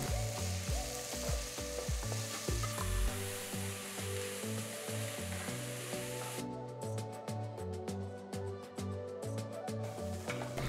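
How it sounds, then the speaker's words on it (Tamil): Loud continuous sizzling of onion and capsicum sautéing in a pan, with stirring scrapes early on, crackling steadily throughout without any talking. "வெங்காயம் கொஞ்சம் வதங்கினா போகிறோம்."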